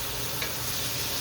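Mushrooms sizzle and hiss in a frying pan, a steady, close frying crackle with a faint stir partway through and no talking.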